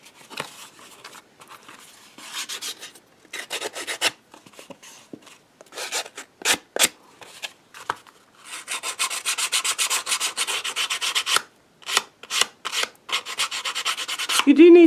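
Rough edges of a wooden tool caddy are sanded by hand, with close, rasping strokes in short bursts, then a longer sustained run of vigorous back-and-forth scrubbing.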